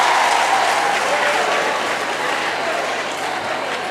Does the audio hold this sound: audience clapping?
yes